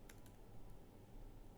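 Soft, quick keystrokes tap on a computer keyboard, a few clicks close together against a quiet room hum.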